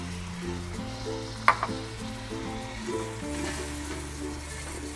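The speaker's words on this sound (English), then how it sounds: "That has a nice smell to it and a loud sizzle." A steady frying sizzle hisses from onion sautéing in a pan under background music, with a brief clatter of a utensil near the middle.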